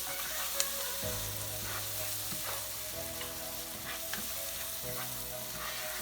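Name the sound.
tomato sauce sizzling in pan for tofu tikka masala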